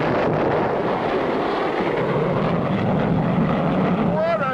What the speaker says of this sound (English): What a takeoff!